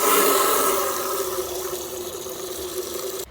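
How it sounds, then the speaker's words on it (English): Water runs steadily into a container being filled for watering garden plants, a continuous close rushing and bubbling that gradually softens over a few seconds, with no talking. "Fill it up, it's gonna need a lot of water."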